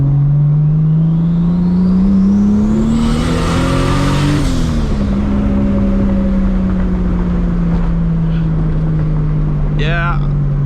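A Toyota MKIV Supra pulls hard at night, a loud engine note rising steadily in pitch then dropping back at the shift before droning on under load, with a person speaking over the engine.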